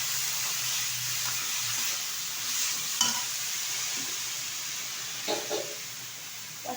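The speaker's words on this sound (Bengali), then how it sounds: "নেড়ে চেড়ে নিচ্ছি" Chopped chickpea greens fry in a hot pan with a continuous close sizzle as they are stirred, with a few scraping clicks and knocks of the utensil against the pan.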